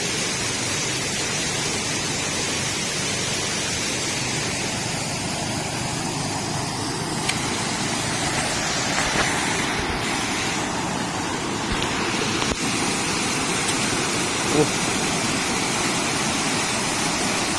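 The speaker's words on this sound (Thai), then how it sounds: "น้ำไหลแรงมากเลยครับนี่" Fast floodwater rushes hard over an old overflow road crossing strewn with water hyacinth, a loud, continuous broadband roar that fills the whole stretch without pause.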